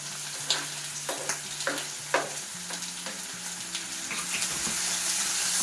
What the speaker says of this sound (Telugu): పచ్చిమిర్చి ఒక రెండు కట్ చేసి వేసుకున్నాను రెండు మీడియం సైజ్ ఆనియన్స్ చిన్న చిన్నవిగా కట్ చేసి వేసుకున్నాను